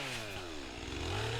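Stihl MS400 chainsaw running, a brief, fairly quiet buzzing engine drone with a slight pitch dip and rise.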